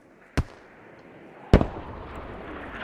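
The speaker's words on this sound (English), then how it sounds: "Not sure where these mortars are." Two heavy mortar explosions during a Squad video game match, each a sharp booming blast, the second louder and closer and trailing off into rumbling noise.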